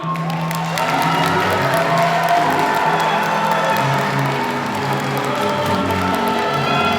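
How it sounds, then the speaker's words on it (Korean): Wedding guests in a hall clap, cheer and whoop for the groom's entrance, a loud continuous crowd roar with scattered shouts over a low musical backing. "신랑 입장 시 여러분의 큰 박수와 뜨거운 응원 부탁드리겠습니다"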